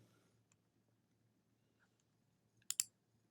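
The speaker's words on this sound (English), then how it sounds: "And we're gonna click save." A single mouse click on a save button, a short, sharp double tick close up in an otherwise quiet room with a faint low hum.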